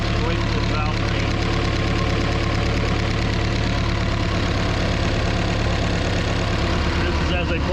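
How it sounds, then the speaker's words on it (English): A 1976 Mercruiser 120hp marine engine idles with its valve train ticking rapidly and evenly just inches from the microphone, a loud, continuous mechanical clatter over a low engine drone. "This is literally 4 to 5 inches away from this valve train."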